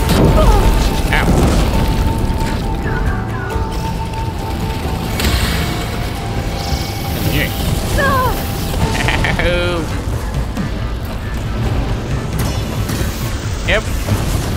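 Hostile machines attack in Horizon Forbidden West, with heavy booms, mechanical clanks and ratcheting whirs rising over a dense, loud action soundscape, some brief whistling tones cutting through.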